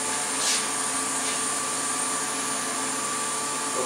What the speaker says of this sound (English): I'm about to release the vacuum and open up the pump and suck out the air from the part.